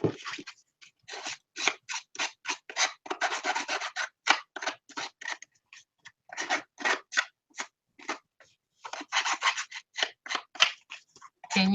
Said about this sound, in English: she's got 3 paper cutters and she's cutting it by hand